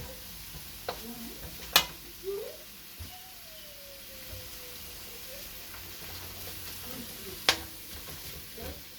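Butter melting in a frying pan for spaghetti carbonara gives a soft, steady sizzle, broken by a few sharp clicks and scrapes of a utensil against the pan.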